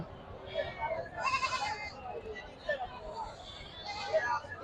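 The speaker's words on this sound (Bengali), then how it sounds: "দেখেন অসংখ্য হাজার হাজার ছাগল এক নজরে দেখাচ্ছে" Goats bleat again and again over a steady murmur of crowd chatter, like a busy livestock market with people talking nearby.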